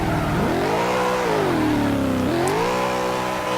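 A BMW M3 GTS engine revs hard while drifting, close and loud, its pitch climbing, dipping and surging again in a continuous snarl.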